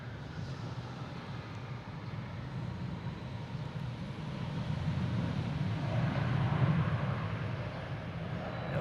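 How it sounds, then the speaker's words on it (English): An airliner landing at Boston Logan International Airport at night after a long-haul flight, a broad low engine rumble that builds gradually and stays fairly distant. "this is a nighttime landing flight"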